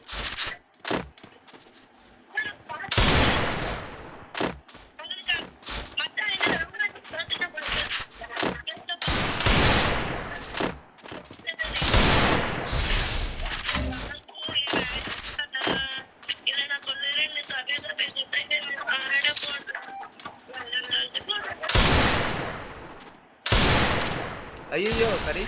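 Gunfire in a six-bullet shooting challenge, a series of loud sharp bursts scattered across the stretch, some in quick clusters, mixed with excited voices talking and shouting between shots.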